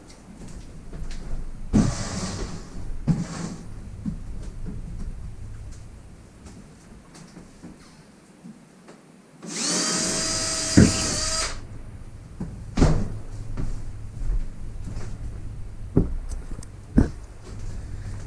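A power drill bores a pilot hole into a wall to hang a snowboard wall mount, one short, loud whirring burst of about two seconds amid quieter handling noises and knocks.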